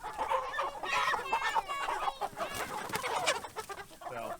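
Pasture-raised chickens cluck and squawk continuously and loudly nearby, a dense overlapping chorus of hens and roosters with no pauses.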